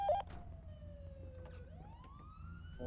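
Police siren in the GTA 5 video game, a single wailing tone sliding down then rising again, steady and moderately loud over a low rumbling background, with no talk over it.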